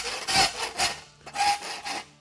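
A rasp files the front of a steel horseshoe heel caulk, giving four close, loud, rough scraping strokes in an uneven rhythm, with short pauses between them.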